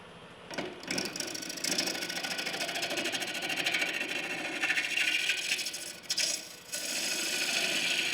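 Wood hollow form on a lathe being sanded with 60 grit sandpaper, a continuous close rasping rub over the spinning workpiece with brief dips where the paper lifts away.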